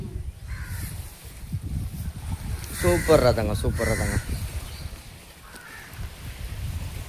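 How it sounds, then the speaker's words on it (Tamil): Several crows caw repeatedly nearby, loud harsh calls clustered in the middle, over steady wind noise while people talk outdoors near the sea. "இங்கே பாரு காக்கா சுற்றிருச்சிங்க எல்லாம். காக்கான்னு கத்திக்கிட்டு கிடக்கு."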